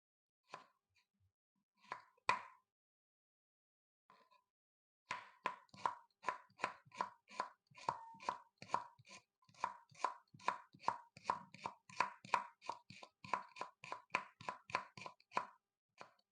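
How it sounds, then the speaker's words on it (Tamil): Knife chopping carrots on a board: a few isolated cuts, a pause, then a long steady run of rapid crisp chops, close and clear with no talking. "நல்லா கேரட்டை சின்ன சின்னதாக நறுக்கிக்குங்க"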